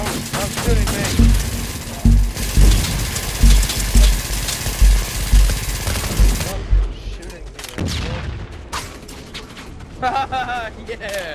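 Gunfire in the sci-fi shooter game Dust 514, a dense fusillade of loud, rapid shots over the first six seconds, thinning to scattered bursts and impacts amid game effects afterward.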